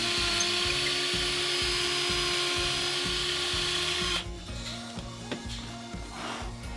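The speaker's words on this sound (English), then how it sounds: "we want to open up these top holes a little bit" A power drill bores into wooden dowels to widen holes for a DIY soil block maker, a steady loud whine with rhythmic low chatter that cuts off after about four seconds, leaving quieter workshop noise.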